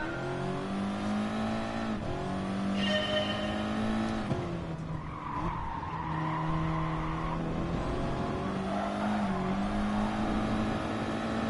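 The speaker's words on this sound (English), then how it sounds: "I'll say they are revving it out even more than we were" Race car engines rev hard in the GT Sport video game, a continuous loud whine rising and dropping with gear changes, with brief tire squeals and another car passing close by.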